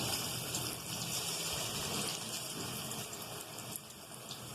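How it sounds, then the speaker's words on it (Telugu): Okra pakoda fries in a pan of hot oil, giving a dense, steady, close crackling hiss that carries on without a break and with no talking. "ఇప్పుడు ఈ పకోడీ అంతా ఫ్రై చేసుకుందాం"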